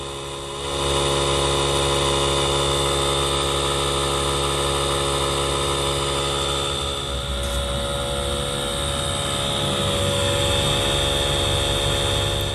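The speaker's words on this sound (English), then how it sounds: "it is an air compressor and it is loud. And this is an idea of kind of how fast it's filling" A DeWalt DCC020IB cordless air compressor runs loud and steady while filling, its motor drone holding constant with a dense mechanical hum and a slight shift in pitch partway through.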